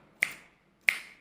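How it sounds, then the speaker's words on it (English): Two crisp finger snaps, close and loud, spaced a little over half a second apart, each with a short bright decay into silence. "So when you snap your fingers, it really makes very cool sound."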